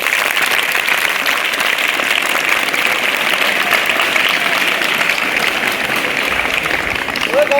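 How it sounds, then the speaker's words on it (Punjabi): Students at a school anti-drug rally break into sustained loud applause, a dense continuous wash of many clapping hands lasting several seconds, with a voice rising briefly near the end. "ਜ਼ੋਰਦਾਰ ਤਾੜੀਆਂ ਮਾਰੋ"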